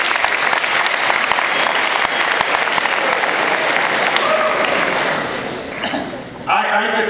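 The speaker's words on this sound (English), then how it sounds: "I believe that you all deserve a round of applause for yourself." A crowd applauds loudly and steadily for several seconds before the clapping fades out, and a voice begins speaking at the end.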